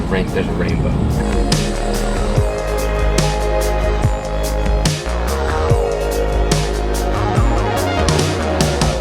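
Steady, loud road and engine noise from a car cruising at speed on a freeway toward LA, a continuous drone with faint speech beneath it.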